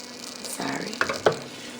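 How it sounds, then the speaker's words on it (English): A whole stick of butter melts in a pan with a soft, close sizzle, broken by a couple of sharp clicks or taps. "I'm going to be melting an entire stick of butter in this pan."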